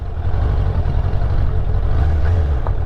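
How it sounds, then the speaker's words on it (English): Suzuki Bandit 600 motorcycle spinning its rear wheel off-road, a steady loud low engine drone with churning rumble held throughout, close by. "Just wheel spin."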